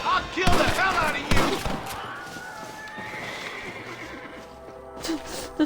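A horse in Red Dead Redemption whinnies twice in quick succession, loud and close, followed by softer snorts and clip-clop hooves, with distant gunfire and a faint voice under the game sounds.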